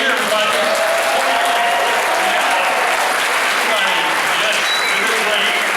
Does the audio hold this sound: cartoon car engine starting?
no